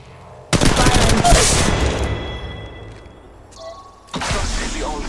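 Automatic weapons fire in the mobile battle royale game Apex Legends Mobile: a loud sustained burst that decays into echoing tail, a quieter pause, then a second loud burst near the end.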